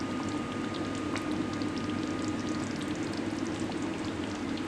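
King fish curry simmering over a low flame, a soft continuous bubbling and gentle popping close by, steady and even for the whole stretch with no voices.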